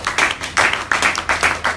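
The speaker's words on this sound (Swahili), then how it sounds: "Hebu pigia Bwana makofi makubwa." A congregation at a church Bible study claps loudly and rhythmically for the Lord, with strong, evenly spaced bursts of many hands beating together in a quick steady pulse, close and with no voices.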